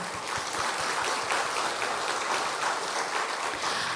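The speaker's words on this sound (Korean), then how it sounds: "우리 이분들 위해서 한번 박수합시다." A church congregation at a Sunday service applauds together, a dense, steady wash of clapping that holds for the full four seconds with no voices over it.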